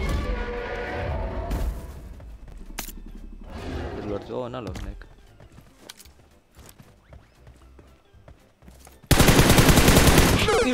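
Gunfire in an online shooter game: bursts of rapid automatic fire and single shots scattered across the scene, ending in a loud sustained volley, with excited talk from players mixed in.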